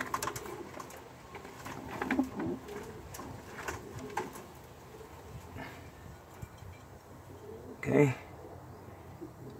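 Tippler pigeons coo softly in a coop, low, repeated burbling calls at a moderate distance with a louder flutter near the end. Someone talks over them at times.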